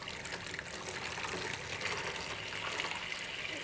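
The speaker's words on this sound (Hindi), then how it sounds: "एक जग पानी यहाँ अभी डाल देता हूँ मैं" Water from a jug pours steadily onto a Redmi A1 phone in a continuous, splashing stream that stays near and fairly loud throughout, with no voices.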